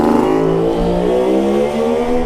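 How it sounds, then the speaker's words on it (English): A classic Kawasaki motorcycle passes close by, its engine a loud, rising-then-falling drone with strong harmonic bands over about two seconds. "That's a nice classic Kawasaki just gone past there."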